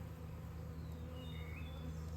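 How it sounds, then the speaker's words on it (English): A steady, droning hum of many bees buzzing together inside a hive, close and continuous, with a few individual insects whining higher as they pass. "plenty of bees in here too,"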